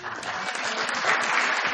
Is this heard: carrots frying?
no